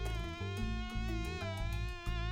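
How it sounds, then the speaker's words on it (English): A loud, continuous insect buzz hums with a slightly wavering pitch, close and unbroken for a couple of seconds. "heard a faint buzzing noise"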